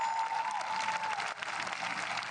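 A crowd at a World Cup show jumping event in Bromont applauds continuously, a dense, fairly distant wash of clapping with only a brief dip, no voices standing out.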